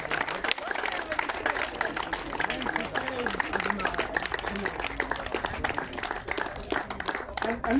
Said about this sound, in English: here's a round of applause for them